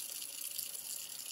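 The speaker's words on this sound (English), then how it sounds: "washing out your synthetic paint brushes," Synthetic paint brushes are rinsed under running water, a steady, close hiss of flowing water alone for about a second.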